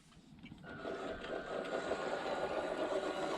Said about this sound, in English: That 370 motor with that reduction gearbox gives this so much control